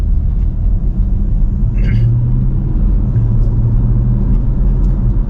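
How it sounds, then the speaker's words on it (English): A first-generation Porsche Macan S engine rumbles steadily as the vehicle accelerates, a low continuous drone close by with a voice speaking over it. "now let's put our foot down and drive it."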